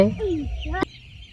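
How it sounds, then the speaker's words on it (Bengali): Hungry chickens on a farm give a few close, raspy clucks and squawks, ending with a sharp clack, then quieter background noise. "মুরগিগুলো একদম খুব ক্ষুধার্ত হয়ে আছে"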